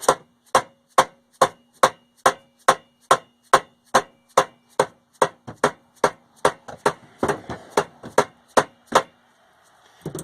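A hammer strikes steadily on a Penguin's rotor to break the rust binding it to the stator: about twenty sharp metallic blows at a brisk, even pace, close and loud, becoming looser and scrappier near the end.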